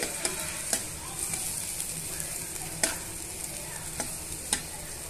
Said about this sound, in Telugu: తరిగిన ఉల్లిపాయ ముక్కల్ని, పచ్చిమిరపకాయ ముక్కల్ని యాడ్ చేసుకొని ఇవన్నీ బాగా దోరగా వేయించుకోవాలండి